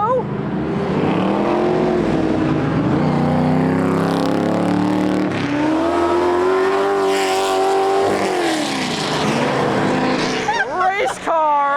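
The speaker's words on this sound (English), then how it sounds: "Race car! Viper ACR?" A Dodge Viper ACR race car roars away from a car meet, its engine note climbing through revs in long sweeping pulls and shifting near the end, loud and close under excited shouting from onlookers.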